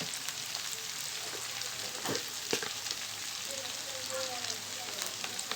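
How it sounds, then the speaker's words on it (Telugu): Ingredients frying in oil in a pan for Telugu dried fish curry, a steady soft sizzle with faint crackles and a few stirring scrapes, quiet and continuous. "ఇప్పుడు ఇవి బాగా వేగనివ్వాలి."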